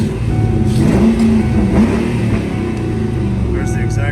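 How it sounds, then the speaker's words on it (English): A 1996 Ford Mustang Cobra convertible backing up, its engine a loud, steady close rumble with a brief rise in revs, while a person talks over it. "I'm gonna back it up here in the shade so we can look over the interior a little bit better"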